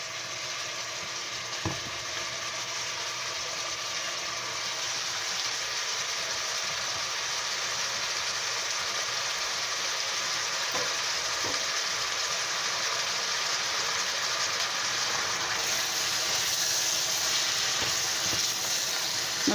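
Onions sizzle and fry steadily in a nearly full pan while caramelizing for an onion blender pie, a continuous close hiss with faint occasional stirring clicks and no talk.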